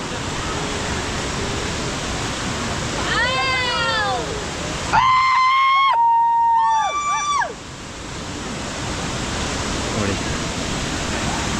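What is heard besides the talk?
waterfall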